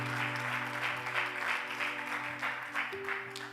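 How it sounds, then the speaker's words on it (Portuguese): A church congregation applauds steadily through a Portuguese-language worship service, a dense wash of clapping over a sustained background of organ or keyboard tones. "Quantos podem aplaudir o Senhor Jesus pela sua graça redentora?"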